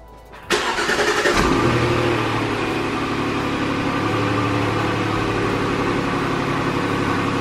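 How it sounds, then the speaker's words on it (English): A Jaguar XF sedan engine cranks and catches with a sudden loud start, revs briefly, then settles into a steady, smooth idle close to the listener. "So I've got my car running right now"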